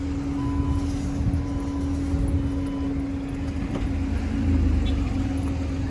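A car driving along a road in Minnesota, with a steady engine hum and low road rumble throughout. It stays close and even, with no talk.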